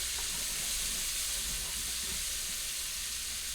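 Chopped onion cooking down in a hot pan for a breakfast casserole, a loud, steady, close sizzle that hisses without a break throughout, with no talking.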